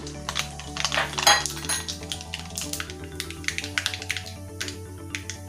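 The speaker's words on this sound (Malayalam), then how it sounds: "നമുക്കിതിലേക്ക് കുറച്ച് കടുക് ഇട്ട് കൊടുക്കാം" Mustard seeds dropped into hot coconut oil in a pan give quiet, scattered crackles and light metallic clinks over soft background music.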